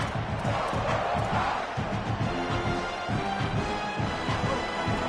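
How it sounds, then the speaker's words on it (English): Stadium crowd in the college football video game NCAA 27, a dense, roaring wall of cheering fans with pulsing chants and swells, continuous and loud throughout without clear individual voices. "This crowd bringing the energy and noise early"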